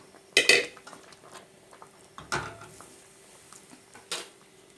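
A ladle stirs cooked lentils into a pot of sambar, with three distinct metallic clanks against the pot's rim and sides separated by quieter scraping, close and alone.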